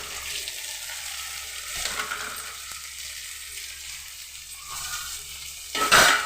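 Onions sizzle steadily in hot oil with a constant crackling hiss, then a sharper, louder burst of sizzling near the end.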